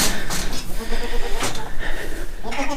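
Young goats on a farm bleat repeatedly in loud, close, wavering cries that follow one another across the moment amid some rustling.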